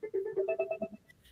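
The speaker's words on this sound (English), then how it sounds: "Sorry, my phone's ringing." A mobile phone ringing with a short rapid melodic ringtone of repeated electronic notes, close and clear, lasting about a second with no talk over it.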